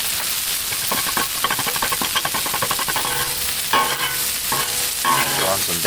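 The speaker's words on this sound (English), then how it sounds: "we're going to go ahead and throw some butter on here and do our eggs" Butter and eggs sizzle and fry on a hot Blackstone flat-top griddle, a steady close crackle and hiss with bursts of spattering throughout, with no talking.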